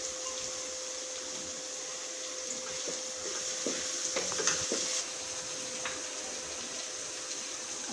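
Finely chopped tomatoes go into onions frying in a pan for daal tarka, giving a soft, steady sizzle with a few brief stirring scrapes and clinks near the middle.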